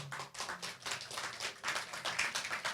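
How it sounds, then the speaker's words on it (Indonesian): A church youth audience claps for the sound system crew, a scattered, fairly quiet run of distinct handclaps with an uneven rhythm and no talking. "Kamu perlu tepuk tangan bagi mereka."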